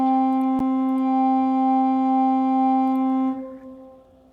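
A sustained pipe organ chord with a bright added upper pitch from a quint mutation stop holds steadily, with a brief click near the start, then releases and fades into room echo.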